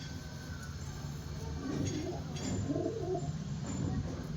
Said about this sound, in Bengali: বিগ সাইজের পায়রা।